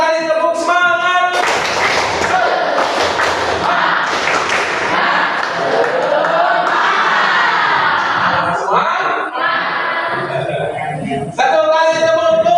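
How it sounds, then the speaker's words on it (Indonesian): A class of schoolchildren clapping together in a rhythmic clap during a lesson, loud and dense with voices shouting along, continuing for most of the stretch with brief pauses. "Satu kali tepuk semangat."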